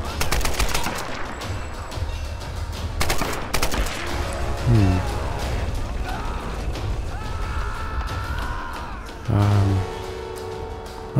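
Repeated gunfire in the Tomb Raider video game, a dense stream of shots and mechanical clatter lasting throughout, loud and close, with a couple of heavier impacts near the middle and end and no talking.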